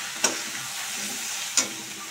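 Homemade Malvani masala fries with potatoes and peas in a pan, a constant close sizzle broken by two brief spoon scrapes, with no talking.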